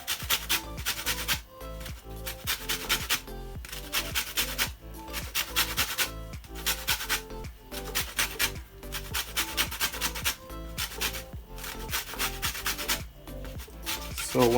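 Lemon zest being grated for a carrot cake, a steady rhythm of quick rasping strokes against the grater, close and fairly quiet, with no voices.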